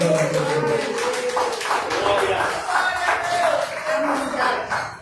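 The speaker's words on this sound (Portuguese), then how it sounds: "Vamos receber a mocidade com as palmas bem alegres ao Deus." A church congregation claps to welcome the youth group, rhythmic hand claps heard under singing or talking voices, steady throughout and fairly close.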